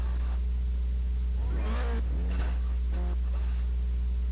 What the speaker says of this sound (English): It's a high-pitched squeal, and it's your turbo spooling up.